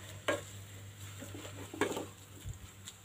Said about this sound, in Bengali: মিশিয়ে নিচ্ছি ধনেপাতাটা